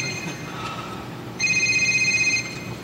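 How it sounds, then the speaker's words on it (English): A phone ringing during a live software demonstration on stage: a steady electronic ringing tone starts partway through and pulses for about a second over a quiet, hissy room background, fairly clear but not loud. "some phone ringing here"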